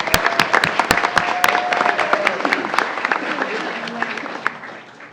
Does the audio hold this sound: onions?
no